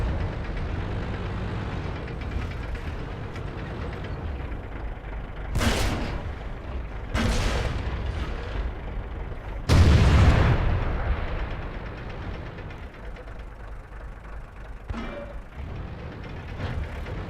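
Three heavy cannon blasts from an M103 heavy tank in the World of Tanks battle on the El Halluf map, each a loud booming shot with a rumbling tail over steady engine and ambient noise.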